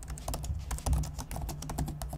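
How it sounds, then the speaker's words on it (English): Soft, steady keystrokes on a Lenovo Flex 14 2-in-1 laptop keyboard with a sturdy deck, a quick continuous run of quiet, muted taps heard up close with no talking. "the keystroke itself is fairly soft, and the deck itself is nice and sturdy, and this all culminates for a very nice typing experience"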